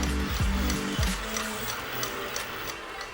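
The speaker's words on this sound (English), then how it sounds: "So we let our mixer run for about 3 minutes" A stand mixer kneads soft, moist bread dough, giving a steady close motor whir with faint rhythmic knocks and ticks as the dough slaps around the bowl.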